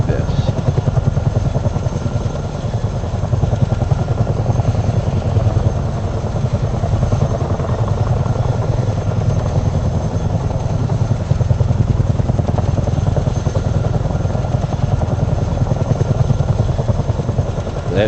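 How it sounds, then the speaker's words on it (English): Helicopters roar close by, their rotors thumping loudly and continuously with a heavy engine drone that never lets up. "That video you see of the helicopters flying by"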